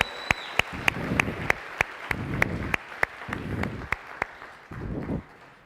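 At a church service, several people clap slowly in a sparse, steady rhythm, the claps fairly close, with bursts of murmured talk underneath between them.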